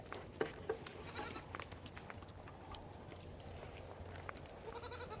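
Goats on a small dairy goat farm bleating several times in short bursts amid rustling and hoof steps, close by with no talking.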